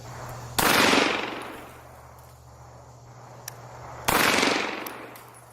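A handgun fires two sharp, loud shots several seconds apart at an outdoor range, each crack followed by a decaying echo, with a faint hum and insect-like chirps in the quiet between.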